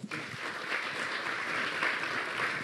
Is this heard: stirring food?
no